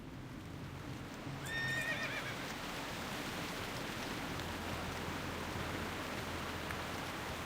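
A horse mount whinnies in World of Warcraft (Turtle WoW), a short bright neigh near the start over a steady wash of rain-like ambient game noise and hoofbeats, with no talking.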